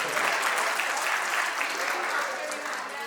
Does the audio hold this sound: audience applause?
yes